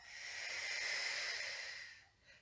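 A long, steady exhaled breath during a Pilates exercise, soft and close, swelling and fading over about two seconds with no talking.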